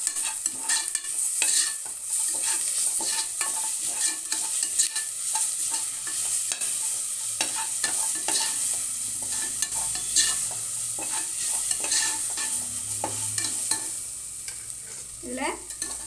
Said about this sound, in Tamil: இப்போ இதில் இஞ்சி பூண்டு விழுது போட்டு நல்லா கிளறிடலாம்.